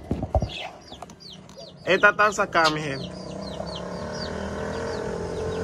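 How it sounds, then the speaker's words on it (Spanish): Soft repeated cooing trills from a pair of zebra doves, a short sequence of calls with a person speaking briefly over them. "Aquí tenemos lo que es una pareja de tórtolas cebritas"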